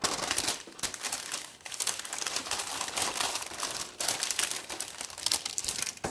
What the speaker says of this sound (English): just put baking paper on top.